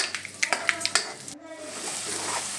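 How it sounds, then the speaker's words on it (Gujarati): Mustard seeds crackle and pop in hot oil and butter for tempering, a burst of sharp snaps early on before settling into a steady sizzle, with a voice talking over it. "હવે આપણે નાખીશું તેલ અને બટર, જેમાં નાખીશું રાઈ વઘાર માટે"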